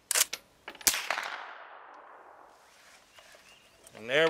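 Suppressed AR rifle firing outdoors: a couple of quick sharp reports near the start, then a louder shot trailing off in a long fading echo, with a brief voice at the end.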